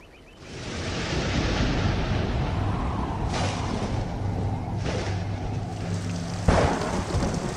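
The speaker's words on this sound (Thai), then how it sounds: "มีฝนตกพรำตลอดเวลา" Steady heavy rain pours continuously, with distant rolls of thunder swelling several times and a sharper crack near the end; no voices.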